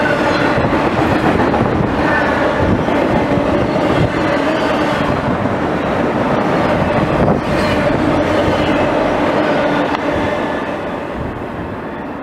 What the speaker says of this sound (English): Another New Jersey Transit train enters the station.